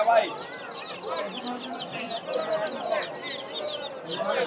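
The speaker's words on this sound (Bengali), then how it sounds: "এই যে এখানে বিভিন্ন ধরনের মুরগি" Chickens cluck and squawk among ducks and other fowl at a village poultry market, a busy close-up chorus of repeated calls with people talking nearby.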